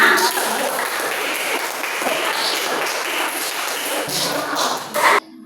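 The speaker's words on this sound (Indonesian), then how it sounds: "kasih tepuk tangan dulu untuk kita semua" Dense, steady clapping from a fourth-grade class fills the clip at a constant loud level, ending abruptly after about five seconds.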